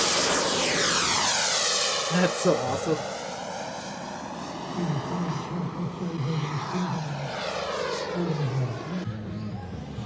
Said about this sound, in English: it's gotta have a jet noises